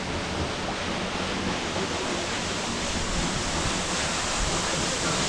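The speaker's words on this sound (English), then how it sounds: "Another little cavern, water flowing out of it." Water flows out of a small cavern at a cascade in upstate New York, a loud, continuous broadband rush of falling and churning water that stays constant and close throughout, with no voices heard.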